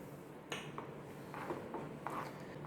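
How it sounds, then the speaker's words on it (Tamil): A spoon stirs semiya javvarisi payasam in a pot, giving a few faint scrapes and light metallic taps against a soft background hiss. "நல்லா கலந்து விட்டுட்டே இருங்க."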